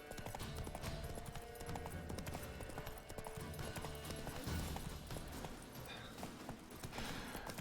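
Hoofbeats of the horse Roach in The Witcher 3: Wild Hunt, a quick, rhythmic clip-clop of galloping hooves running steadily and fairly close, with no talk over it.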